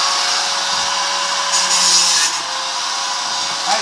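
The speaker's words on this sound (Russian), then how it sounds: "Мы их сейчас безжалостно с помощью, опять же, этой болгарки выпилим на ваших глазах." Angle grinder cutting through the crossbars of a quail cage, a loud continuous high-pitched whine with a few brief harsher surges as the disc bites the metal.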